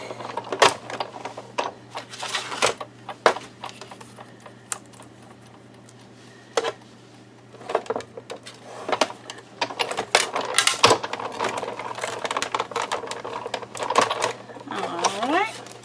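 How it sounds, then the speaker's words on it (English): White cardstock is cut into a banner shape for a Halloween card. Close, irregular mechanical clicks and rattling come in bursts, with a low steady hum underneath and some talking mixed in. "I am going to cut this banner"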